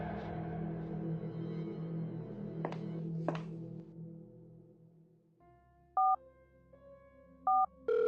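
A few soft clicks and thumps, then a pair of short electronic keypad beeps a little over a second apart, close and clear over quiet background.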